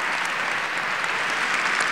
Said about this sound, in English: So let's applaud all the members of AIPAC.